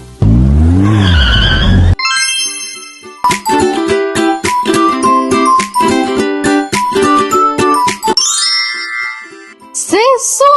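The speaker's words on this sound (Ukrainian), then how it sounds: "Ось машинка. Вона їде." A cartoon toy car sound effect revs and skids loudly at the start of a children's learning video, followed by bright, jingling tune notes and chimes.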